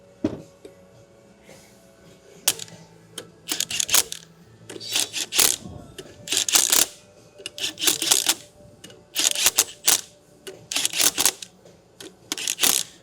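Short bursts from a power drill on a low torque setting drive screws, with brief whirring runs separated by clicks and pauses in an irregular rhythm, fairly close.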